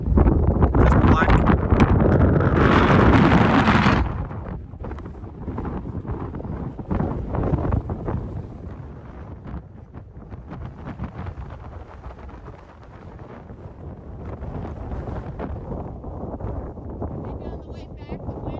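Strong wind buffets the microphone outdoors on a black, barren Icelandic landscape, a loud roaring rumble for the first few seconds that eases into gusty, uneven buffeting with scattered crackles.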